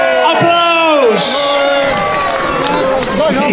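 A lively crowd cheers and whoops at the arrival of Sinterklaas at the Boxtel town entry parade, with children's shouts and excited voices rising over a steady roar throughout.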